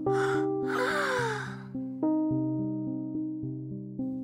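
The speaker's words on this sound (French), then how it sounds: "il bâilla." A reader voices a yawn for the Little Prince in a breathy, drawn-out exhale with a falling pitch, heard over a sustained, softly shifting background music.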